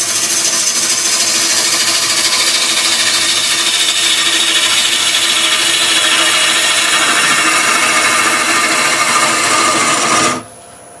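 A wood lathe spins a freshly cut, wet natural-edge vase while a tool cleans up the underside, giving a loud continuous rushing, scraping hiss that holds steady for about ten seconds before cutting off.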